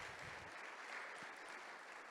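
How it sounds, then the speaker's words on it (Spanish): A church congregation applauds at a service, a faint steady wash of clapping heard from a distance throughout. "démosles un aplauso al Señor, porque Él es fiel"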